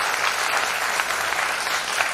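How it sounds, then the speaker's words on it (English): Sustained audience applause at a two-day classical music festival in a town hall, a dense steady wash of clapping from a large crowd, fairly close and even throughout without voices. "big round of applause for all the artists who have performed for these 2 days"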